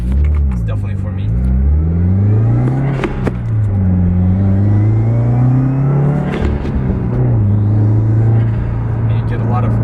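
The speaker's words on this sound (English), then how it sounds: "The bypass valve, it's a TurboXS bypass valve, so you can hear a lot more of it when you get an intake." A turbocharged car engine revs with a TurboXS bypass valve, its steady rising and falling drone and intake whoosh running continuously while someone talks over it throughout.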